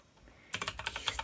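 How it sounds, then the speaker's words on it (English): Rapid clicking keystrokes on a computer keyboard start abruptly after a quiet moment and continue in an irregular close-up patter, loud and alone without talk. "I'm typing, guys."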